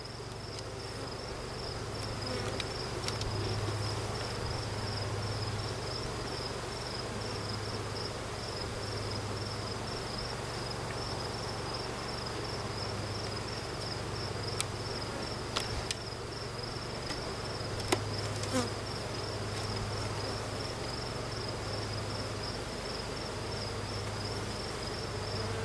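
A steady, soft insect drone of bees around hives during a fall hive check, a continuous low hum with faint high buzzing layered over it, no voices.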